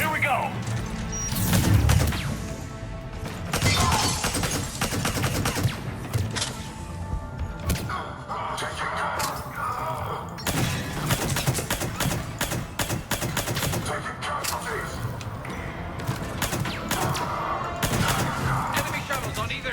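Bursts of gunfire and crashing impacts from a Mass Effect 3 firefight, with rapid automatic volleys and sharp hits running loud and continuous under speech throughout.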